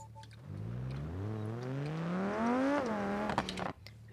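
In BeamNG Drive, a car engine winds up slowly from start, its tone climbing steadily over a few seconds to a peak, then dropping off abruptly with a few clicks, heard close and alone.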